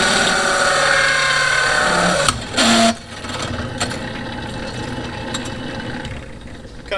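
A LaserBest hole cutter on a drill press bores through metal with a steady, dense grinding hum. The underpowered press bogs briefly partway through, then settles back into a slightly quieter continuous whir nearby.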